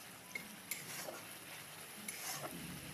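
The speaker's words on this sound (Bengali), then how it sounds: "নেড়ে নিলাম ভালো করে" A spoon stirs spice paste with tomato in a pan of oil for a vegetarian cauliflower curry, producing a faint, steady sizzle broken by a few soft scraping knocks and clinks.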